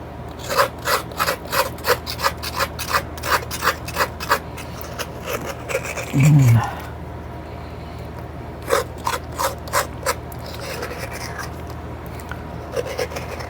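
Frozen fruit being scraped for homemade fruit ice cream gives a run of quick, rhythmic rasping strokes, close and moderately loud, with a brief low thump midway and a pause before the scraping resumes.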